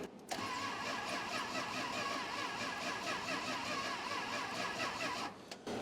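A 1966 Chrysler Crown Imperial big block V8, long abandoned, cranks and fires up through a new exhaust, then settles into a loud, rough, steady rumble before cutting off near the end.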